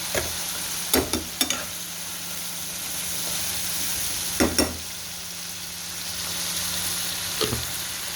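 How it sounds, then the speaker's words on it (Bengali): Spice masala with chili powder and salt fries in a pan for a greens and small-fish dish, a constant close sizzle broken by a few sharp scrapes of the spatula; no talking. "এখন মশলাগুলো কষানো হয়ে গেছে"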